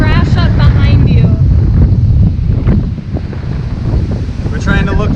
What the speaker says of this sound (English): People are standing in the middle of the hole and the waves just crash up behind you.